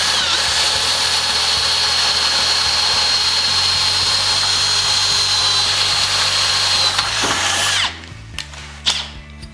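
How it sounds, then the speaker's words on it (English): A power drill bores through the factory hole of a Peterson pocket door into the door track, a loud, steady close-up whine for about eight seconds before cutting off, followed by a few brief clicks and clatters. "So we're going to use the factory hole in the Peterson Pocket Door to drill a hole into our track"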